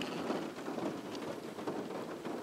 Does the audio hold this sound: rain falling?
yes